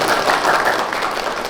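An audience of residents applauds at a West Java ceremony where houses are handed over, with the governor and the CSR program of bank BJB involved: dense, steady clapping from a sizable crowd, loud and close, with no voices on top.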